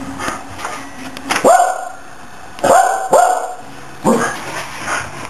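A dog barks several times in short, sharp bursts, close and fairly loud, with brief pauses between the barks.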